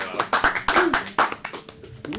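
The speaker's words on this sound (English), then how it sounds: "I'm just going to start clapping" A few people clap their hands in a small group setting, sharp uneven claps in a short burst mixed with voices talking and reacting close by.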